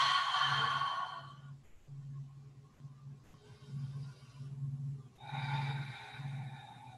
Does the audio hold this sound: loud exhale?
yes